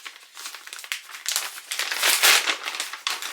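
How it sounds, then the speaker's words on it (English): Plastic packaging around a Yeezy Gap hoodie is pushed and ripped open, giving close, loud crinkling and crackling in uneven bursts with no voices. "This one you actually have to push out and then rip."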